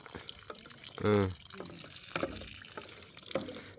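Water pumped from a well runs and drips nearby, splashing and trickling steadily while people talk over it.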